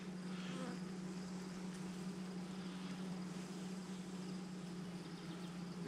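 Honeybees buzz steadily around an open hive frame during an inspection, a continuous, close drone with no voices.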